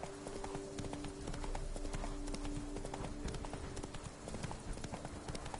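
The hooves of Roach, a chestnut horse in the Witcher 3 video game, clip-clop in a steady walking rhythm, sounding close and continuous under a faint game background.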